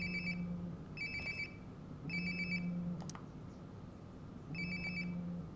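A phone rings inside the Life is Strange: Before the Storm video game: repeated electronic ring bursts, four in all, at an even rhythm and moderate loudness over a faint room background, with no talking.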